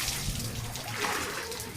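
Children splashing water from a spring-fed source, a steady wet spatter and slosh under faint outdoor noise with no clear voices.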